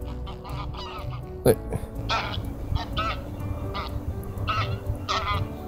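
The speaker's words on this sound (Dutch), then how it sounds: "Gans in het maisveld." A flock of geese in a cornfield honks repeatedly, several birds calling in overlapping bursts over a steady outdoor rumble, with one brief spoken word.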